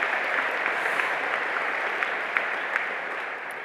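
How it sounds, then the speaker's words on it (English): Graduation ceremony audience applauding, a dense, even wash of many hands clapping indoors, holding steady for a few seconds with scattered sharper claps standing out. "You can give yourself a round of applause."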